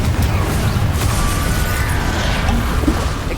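The Confringo blasting spell bursts in the video game Hogwarts Legacy as a loud, dense explosive boom that rumbles steadily from start to finish.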